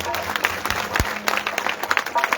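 A congregation at a prayer and testimony gathering claps loudly in a dense, continuous burst, with a voice heard over the applause.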